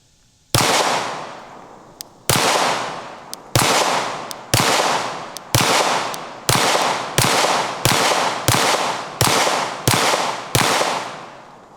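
Gunshots fired at a cheap Amazon body armor plate set on a cinder block: about fifteen sharp, loud reports in a steady series, each followed by a short ringing decay, with no talking.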